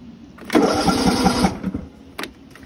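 A vehicle engine cranks and catches, running roughly for about a second before dropping off, then a brief second burst, close and loud with no talking.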